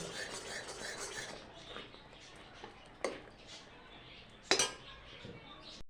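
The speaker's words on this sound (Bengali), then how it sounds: "নারকেলটা দিয়ে দিচ্ছি, কিছুক্ষণ নাড়াচাড়া দিয়ে নারকেল দিয়ে তারপরে নামিয়ে দেব" Grated coconut is tipped into a pan of sweet syrup mixture and stirred, with a spoon scraping and clinking against the metal at close range and two sharper knocks near the end.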